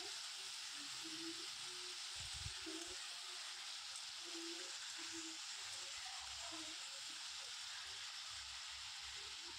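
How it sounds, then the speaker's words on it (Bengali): Drumstick flowers fry in a pan with salt and turmeric, a soft, steady sizzling hiss that runs without a break at low volume, with faint occasional stirring and no voices. "এটাকে ভালো করে একটু নেড়েচেড়ে ভাজা ভাজা করে নেব"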